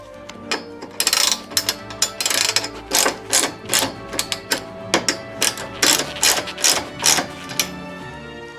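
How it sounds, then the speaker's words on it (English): A thread tap is worked through damaged bolt holes during a RockHard 4x4 Sport Cage install, producing close, rhythmic bursts of metallic ratcheting clicks that repeat in short strokes with brief pauses. "I already have to run a tap through these holes."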